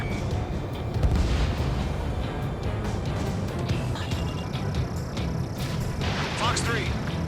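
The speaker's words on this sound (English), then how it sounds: "Missile launched." Missile launches and explosions in the Ace Combat 7 flight combat game: a continuous dense roar of jet engines and blasts, with low booms swelling near the start and a rising warning tone late, under radio chatter.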